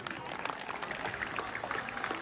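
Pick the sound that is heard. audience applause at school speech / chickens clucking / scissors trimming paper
audience applause at school speech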